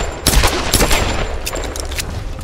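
Gunfire in the Tomb Raider (2013) video game: a rapid, loud cluster of close shots and impacts crackles in quick succession through the short burst, with dense overlapping reports.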